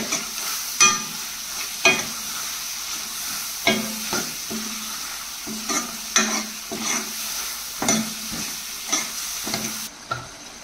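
Clams fry in a pan, browning with a soft steady sizzle while a spoon stirs and scrapes through them in repeated sharp knocks, close up.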